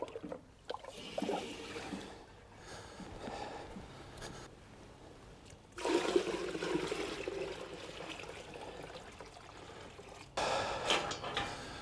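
Water pours into a trough to top up a cattle pen in a barn, a steady trickling splash that comes in uneven bursts, louder in the second half and again near the end, with no talking.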